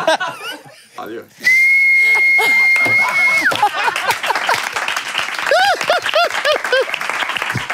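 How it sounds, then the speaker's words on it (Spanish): A long, steady high-pitched whistle made without using the lips holds for about two seconds, then breaks off into loud applause, laughter and excited voices. "Yo tengo la capacidad, por ejemplo, de silbar sin los labios."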